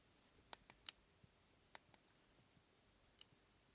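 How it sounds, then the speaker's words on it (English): A few faint, sharp clicks scattered over quiet silence, small and close: the lock and unlock sound of a first-generation iPod Touch. "So this was the sound of the lock or unlock."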